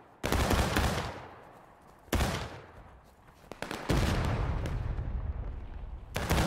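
Musket volleys in a video game battle on a rocky slope: several loud, ragged bursts of massed gunfire, each crackling salvo fading into a rumbling tail before the next erupts.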